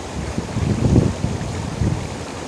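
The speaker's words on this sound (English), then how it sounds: "It's getting windy out here now." Wind blows outdoors on a hot day, with gusty low rumbles buffeting the microphone in uneven surges that peak briefly before easing back to a steady blustery roar.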